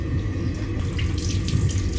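A tap runs steadily into a sink, a continuous splashing rush of water at close range with no talking.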